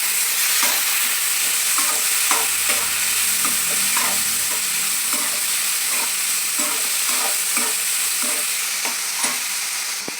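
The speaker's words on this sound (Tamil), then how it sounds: "வெங்காயத்தை நல்லா பொன்னிறத்துக்கு வர மாதிரி வறுத்து எடுத்துக்கலாம்" Onions, tomatoes and green chillies frying in a pan, a loud continuous sizzle with rhythmic scraping stirs of a spoon recurring every second or so, close up with no voices.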